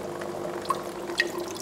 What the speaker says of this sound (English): the air, it just sucks in some of the water with it and brings it up